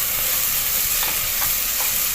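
Ginger garlic paste frying with onions for arvi gosht, a loud dense continuous sizzle close up with faint stirring scrapes, no voices.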